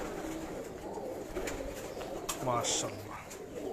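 Pigeon cooing from a prized high-flyer at a Karachi loft, soft and close beneath a man's excited speech, with a few brief higher chirps near the end.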